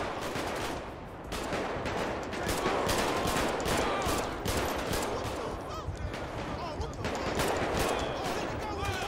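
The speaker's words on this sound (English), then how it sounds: "Why does gun shoot like this?" Rapid bursts of gunfire in GTA 5 with a police mod, dense and continuous shots layered over game noise, with a voice talking over them at times.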